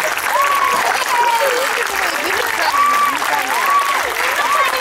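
Audience applause at an equestrian show, a steady broadband clatter running the full length beneath a prominent voice singing or talking over it.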